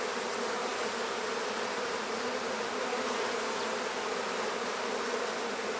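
Agitated honeybees in an opened hive, massed and jam-packed during a hive split, give off a dense, continuous high buzz that holds steady and fairly faint throughout, with no voices.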